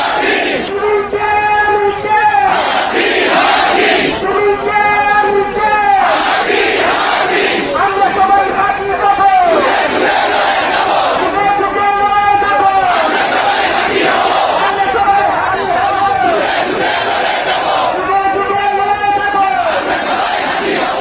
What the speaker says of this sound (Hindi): दिन में शाहबाग में निकली भीड़